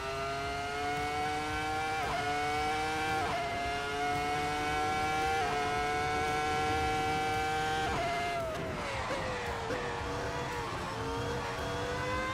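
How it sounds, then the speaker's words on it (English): A video game racing car engine, played on a home-built sim rig, screams at high revs and drops pitch with each gear shift, continuous and loud, with no talking. "The sound of this car,"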